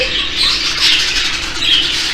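A three-month-old parrot squawks in short, harsh, raspy bursts, loud and close, repeating a few times.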